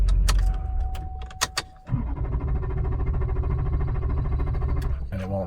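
2003 GM 6.6 diesel truck engine with a crank-no-start fault: clicks and a chime, then a loud, steady cranking drone running for several seconds before ending, close by, no voices.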